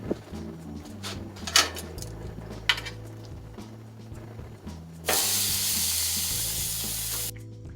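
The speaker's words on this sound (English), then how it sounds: "And that sizzle is what you want to hear." Seasoned steak on a hot grill, sizzling and hissing steadily, with a loud burst of spitting sizzle near the end after scattered clinks of utensils and pans.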